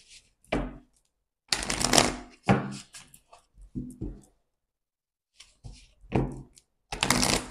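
Cards are drawn and shuffled from a deck during a tarot-style reading, producing several short, crisp slaps and riffles in close, separate bursts with brief silences between them.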